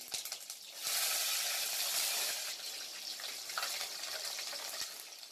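Garlic and green chillies fry in hot oil, giving a loud, bright sizzle that swells and stays steady, with a few soft knocks from a spoon against the pan.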